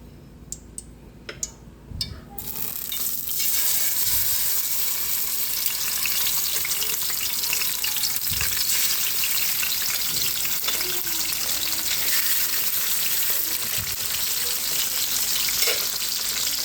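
Fish frying in cooking oil, with a few light clicks at the start and then a loud, dense, continuous sizzle that holds steady, close by and with no voices.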